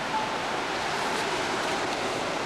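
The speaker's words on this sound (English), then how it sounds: "There's the background, very nice ocean." Continuous broad hiss of ocean surf close by, a steady wash of breaking waves without distinct individual crashes, alone with no voices.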